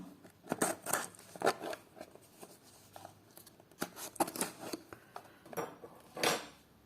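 A small parcel box is handled and opened, giving scattered crinkles, scrapes and soft taps of cardboard and packing in short irregular bursts, close and fairly quiet.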